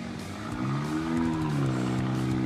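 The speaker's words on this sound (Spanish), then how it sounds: "vamos a sentir cómo derrapa un Volvo hoy aquí en Full Car" A Volvo S60 at a drag race revs hard while drifting, its engine rising and falling in pitch with a gritty roar and tire noise, loud and close across a few seconds.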